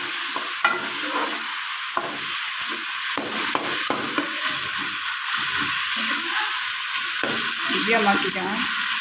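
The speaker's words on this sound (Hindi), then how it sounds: "जब तक हम जीरा भून के क्रश कर लें।" Cumin seeds roasting in a pan, a steady close sizzle with repeated stirring and scraping sounds throughout.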